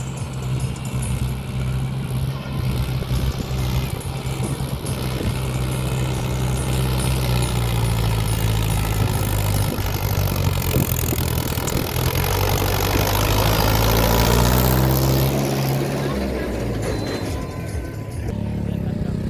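A loud tractor engine, a 575 model, drones steadily while climbing a steep slope, rising and straining in pitch under load, with faint voices and background noise mixed in.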